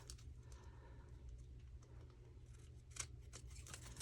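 Scissors trim through the paper of a junk mail envelope, faint close snips including one sharper cut, over a quiet low room hum.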